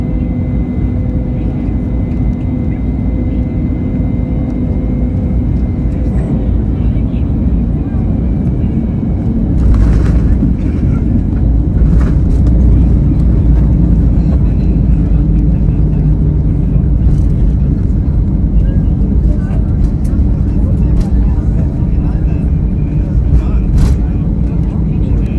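Steady loud cabin rumble inside an Easyjet Airbus A321neo after landing at London Gatwick, a constant low engine and air drone throughout with a cabin announcement voice over it.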